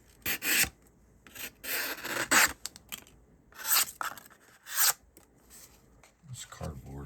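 A handmade pocket knife cutting cardboard: several short, rasping slicing and scraping strokes in irregular bursts, close up, with brief talk near the end.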